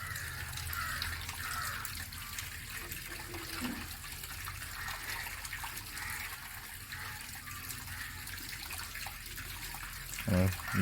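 Water flowing steadily out of a natural water filter in a continuous splashing rush that runs through the whole stretch, with a louder burst near the end.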